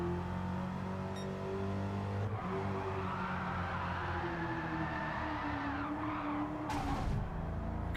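A race car's engine drifting in Gran Turismo 7, with a steady drone whose revs slide gradually downward as the tires squeal, running continuously without any voice.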